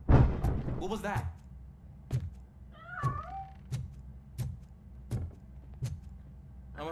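A cat in RoboCop: Rogue City gives a single meow midway, set among repeated heavy, evenly spaced thuds like footsteps, with a short burst of voice at the start.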